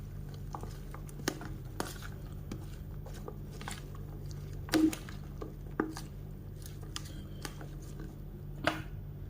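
Soft, wet squishing and light clicks from an instant noodle salad with tomatoes, sausage and minced pork being tossed and mixed by hand, irregular and quiet over a low hum.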